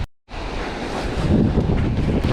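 Strong wind buffets the microphone on a cold winter shore in Northumberland during cod fishing, a steady loud broadband roar with waves beneath, starting after a brief silence and holding for the rest.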